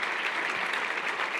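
Steady, dense applause from a gathered crowd at an event honouring Belgrano and La Voz del Interior journalists, brief and uninterrupted by talk.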